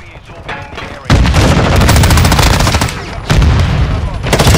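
Loud, rapid gunfire in a shooter video game rattles in two long sustained volleys separated by a brief drop, dense and close, with a faint background bed underneath.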